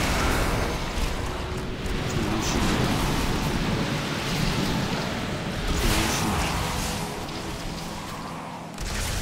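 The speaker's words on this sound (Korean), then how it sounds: "아 폭풍 제일 짜증난다" Thunder from a storm affix in a World of Warcraft Dragonflight dungeon rumbles loud and continuous, a dense rolling roar with surging crashes, like heavy rain and thunder, sustained without pause.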